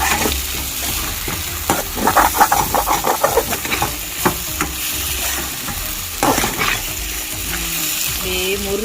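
Potato masala fries in hot oil in a pan, with a steady close sizzle broken by repeated scraping stirs and clinks of the spoon against the pan.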